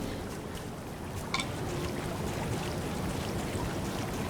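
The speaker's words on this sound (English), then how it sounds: "maybe I should check the waterfall" A waterfall in the video game Bloodless rushes with a steady, dense hiss of falling water, loud and unbroken, with a single faint click partway through and no talking.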